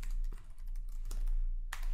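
Typing a username into a login form on a computer keyboard: a quick run of light key clicks at close range, with a louder clack near the end and no one talking.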